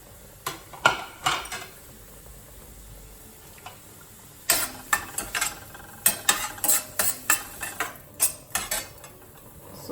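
Green onions, both greens and whites, cooking in a pan for a spiced potato grilled cheese recipe, with a quiet sizzle under repeated sharp clinks and scrapes of a utensil stirring against the pan, coming in bursts.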